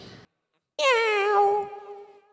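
A single drawn-out yowl done by a human voice imitating two cats fighting, loud and close, tapering off after a brief quiet gap.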